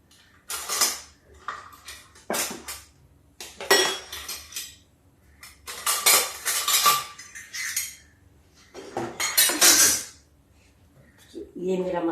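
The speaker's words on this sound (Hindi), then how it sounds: "मसाला घोल के मैं रख देती हूँ" A spoon scrapes and clinks against a bowl while mixing a spice paste for kadhi, in several bursts of clattering strokes with short pauses between them; someone talks at times in between.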